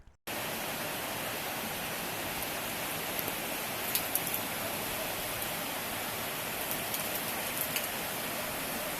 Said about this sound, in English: Yesterday it was raining very heavily in Penang.